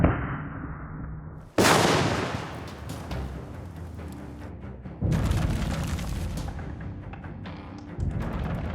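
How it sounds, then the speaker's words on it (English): Three heavy ship's cannon blasts firing chain shot boom in succession, each a sharp loud report followed by a long rumbling decay. "The cannon is charged, the crew ready. Time to fire the chain shot."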